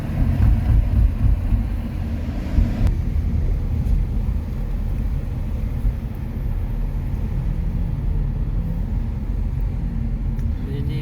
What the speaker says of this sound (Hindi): आपको दुबई की ट्रैफिक दिखा रहे हैं